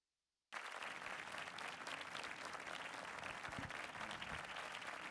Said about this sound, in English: Is that a round of applause I hear?